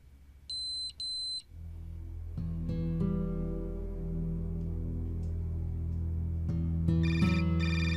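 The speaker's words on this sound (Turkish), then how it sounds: "Telefonun çalıyor." A mobile phone rings in a Turkish TV drama scene, giving two short, bright, electronic beeps near the start, followed by swelling musical tones.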